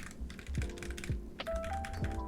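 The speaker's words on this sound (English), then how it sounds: "over here, I have a modded RK61 keyboard" Keys clack on a modded RK61 mechanical keyboard in a short burst of close, crisp typing, with uneven taps and a few heavier thocks.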